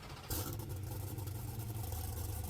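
A Roadster car engine in the driving game Driving Empire starts up with a sudden burst, then settles into a steady, loud, low idle hum, with no voices.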